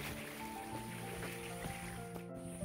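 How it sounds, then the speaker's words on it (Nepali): A small hillside stream beside an orange orchard flows with a faint, steady gurgle and trickle, heard from a short distance with no talking. "पानी प्रशस्तै रहेछ है, कल कल गर्दै बग्छ खोला"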